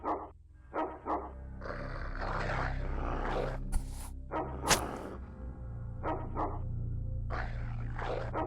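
A dog in the video game X-Com Files barks several times in short, sharp bursts at uneven intervals, mixed with louder noisy game sounds and a steady low hum.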